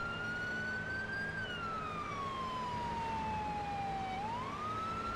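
Police car siren in the Police Simulator: Patrol Officers video game, a loud continuous wail slowly rising and falling in pitch, steady and close with no voices over it.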